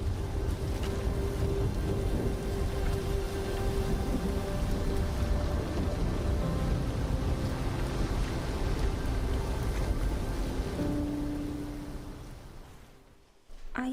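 A thunderstorm delivers steady heavy rain over a low, rolling rumble of thunder, filling the space evenly before fading away near the end, with no one speaking.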